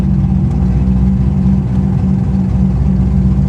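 A C5 Corvette running with no mufflers at all, a loud, steady low droning rumble at idle with no change in pitch, close and alone with no voices.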